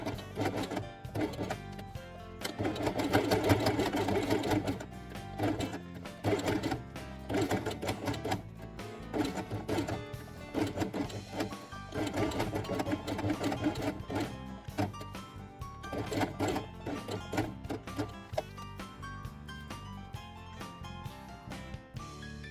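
A sewing machine stitches felt pieces along their edge with blue thread, giving a steady rapid mechanical whir in bursts of varying length, close and alone.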